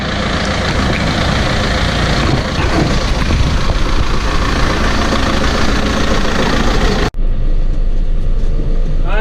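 A John Deere 6330 tractor engine idles steadily on a rainy farm, a loud, continuous rumble with a brief dropout near the end.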